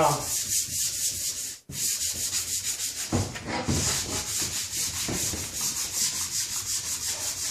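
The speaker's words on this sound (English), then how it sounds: "150 grit sanding sponges" Steady rhythmic rasping of a 150-grit sanding sponge rubbed back and forth over a wooden drop-leaf table, close and continuous, with one brief pause early on.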